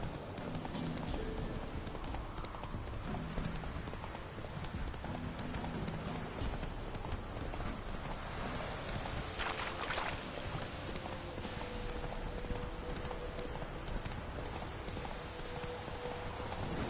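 Horse hooves galloping in The Witcher 3, a fast rhythmic clip-clop pounding continuously and fairly close, with faint ambient background beneath.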